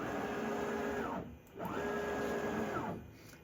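A Genmitsu PROVerXL 4x4 CNC router gantry travels along its Y-axis twice, each move a steady motor whine that ramps up, holds and ramps down, separated by a brief pause.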